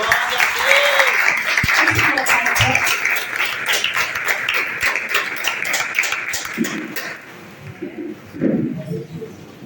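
Church congregation applauding during a sermon, dense sustained clapping that tapers with voices and shouts mixed in and rising near the end.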